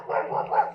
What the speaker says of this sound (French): ils sont en train de courser le chien